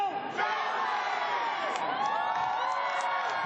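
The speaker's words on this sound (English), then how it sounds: "Very large band of supporters here, and why not? They're very vocal. Crowd's having a great time." A large tennis crowd at the 2015 Brisbane International, during a John Millman v Roger Federer match, cheers and whoops loudly, a dense wall of vocal shouting and cries sustained throughout.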